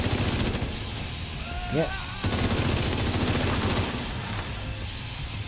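Rapid gunfire rattles in The Division 2 video game as shots go into an enemy's head, with dense, loud, close bursts of repeated shots that break off briefly before resuming, while a voice speaks a short word over them.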